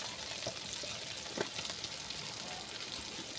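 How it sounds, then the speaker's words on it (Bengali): An onion, tomato and spice masala fries in a pan as it turns into a curry base, giving a soft, steady sizzle with faint scattered crackles and an occasional light tap. "আমার পেঁয়াজ টমেটোটা ভাজা হয়ে গেছে"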